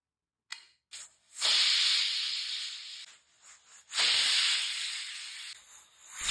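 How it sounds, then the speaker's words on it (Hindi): A pressure cooker on a high gas flame vents steam in loud, shrill hissing whistles, two long bursts with shorter sputters between them, close and with no talk. "जब तक कुकर में सीटियाँ आ रही है"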